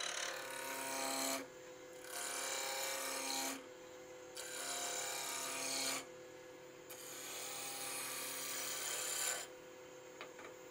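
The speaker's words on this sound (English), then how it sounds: "So I'm going to use a spindle roughing gouge. That's the fastest way for me to turn wood with corners on to square." A spindle roughing gouge cutting square-cornered wood on a lathe, a steady rasping scrape in repeated passes separated by short quieter gaps, close but moderate in level.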